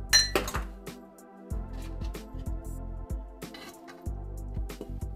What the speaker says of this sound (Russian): хорошенечко перемешиваем, и наш салат готов